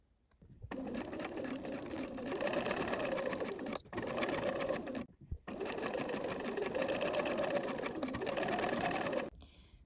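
A sewing machine stitches the side seams of garment facings at 1 cm from the edge, a close, steady mechanical whir running in two long bursts split by a brief stop.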